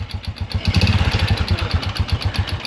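A Honda Wave 125i motorcycle engine fires up after an electrical fault check, a loud close rapid putter that settles into a steady idle throughout.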